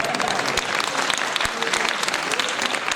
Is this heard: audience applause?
yes